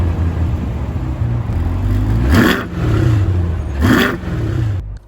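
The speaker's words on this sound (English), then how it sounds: "Let us start up the C8 Corvette." 2021 C8 Corvette engine running close by, a steady rumbling idle broken by two sharp revs that flare up and fall away about a second and a half apart.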